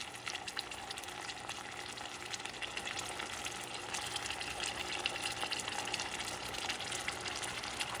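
Half an onion sizzling in a hot pan while cooking catfish escabeche, a steady crackling hiss that grows slightly denser over several seconds, close and fairly quiet, with no voices.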